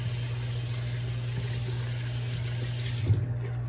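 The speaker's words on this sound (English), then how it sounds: "I'm gonna wash this off my hands." Hands being washed under a running bathroom tap, a steady close rush of water flowing throughout with slight splashing near the end.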